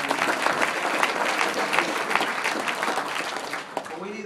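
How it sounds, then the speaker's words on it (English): Dinner guests at a Reagan Dinner political event break into dense, sustained applause, a loud crowd of clapping hands filling the room, with a voice briefly heard near the end. "In fact, I think we should just applaud."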